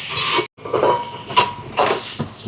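Carrots and leeks salted in a pan hiss and sizzle close up, with a brief dropout and a few soft scraping stirs over the steady frying noise.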